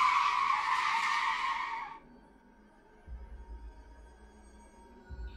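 A car's brakes lock into a loud, broad tire skid lasting about two seconds, then cut off to a low idling engine rumble with a couple of soft thumps; no distinct horn stands out.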